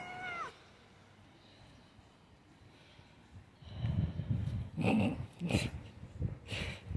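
Cats meow in a backyard: one drawn-out meow opens, then after a quiet stretch comes a cluster of louder, rougher cat calls and snorty noises close by.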